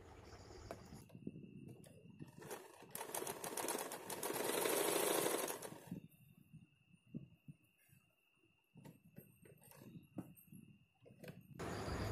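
A domestic sewing machine stitches a seam on a front-zip long boat-neck blouse. Soft, quiet bursts of mechanical whirring and rattling alternate with pauses and handling of the fabric.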